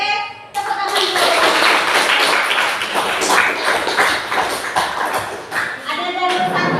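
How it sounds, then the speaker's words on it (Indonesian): A classroom group claps hands together in a dense, continuous burst of overlapping claps that fills nearly the whole stretch, loud and close, with a few voices mixed in near the start and end. "Oke, tepuk tangan dulu."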